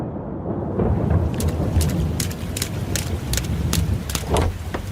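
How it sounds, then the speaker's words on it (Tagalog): Heavy rain pours steadily as a dense, loud wash, with scattered sharp cracks and distant rumbles of thunder running throughout. "kasabay noon ay ang pagbuhos ng malakas na ulan"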